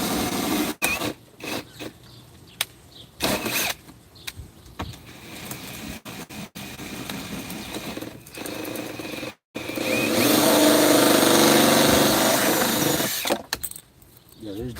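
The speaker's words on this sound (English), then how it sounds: "I'll just drill it out and then put some new stuff" A power drill boring out old screws on a project build, whining loudly in repeated bursts of varying length with brief pauses, ending in one long sustained run.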